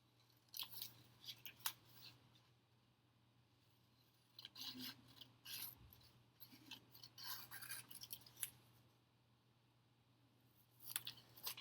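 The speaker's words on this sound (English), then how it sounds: "I'm just cutting these out for you for my paper" Scissors cutting paper close by, in irregular bursts of crisp snipping and rustling separated by short quiet pauses, with no voices over them.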